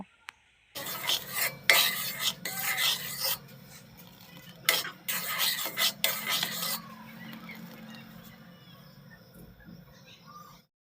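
Jaggery syrup being stirred into a raw mango pickle mixture, heard as close scraping and rubbing strokes of a spoon against the vessel in bursts, then quieter scraping with a few soft taps.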